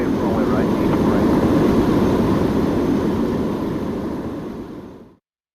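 A Boeing 787 airliner in EVA Air livery takes off in the Airline Commander flight game. A steady, loud jet roar holds for about five seconds, then thins and cuts off abruptly.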